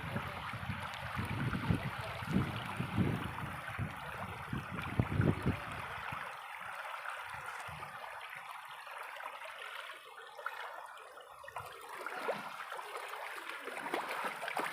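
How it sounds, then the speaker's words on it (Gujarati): Strong floodwater rushes over a road near a village, heard as a continuous roar of flowing water. The low rumble is heavy for the first six seconds and then thins to a lighter, steady rushing. "જોઈ શકો છો પાણીનો પ્રવાહ"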